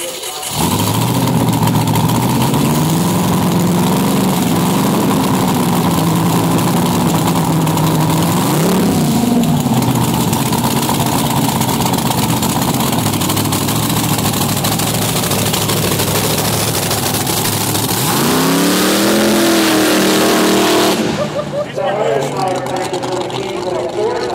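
The two engines of a dual-engine Chevarley car fire up and roar loudly up close, the revs rising and falling several times before cutting off near the end.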